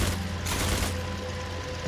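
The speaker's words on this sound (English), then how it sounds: "the bullets go out front. There's one machine gun on the side too" Machine gun fire from a Bréguet XIV biplane in the IL-2 Sturmovik flight game, a short rattling burst over steady engine drone.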